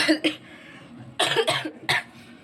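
A woman with a cold coughs in short bursts: a quick pair of coughs at the start, then a harsher cluster of chesty coughs and one more single cough, close and fairly loud.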